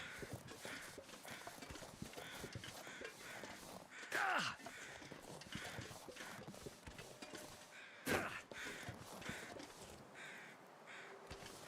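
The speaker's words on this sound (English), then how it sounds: "Where are you birds flying around?" Crows caw repeatedly in the video game Canada: The Game, a couple of louder calls standing out over a steady, hissing outdoor ambience.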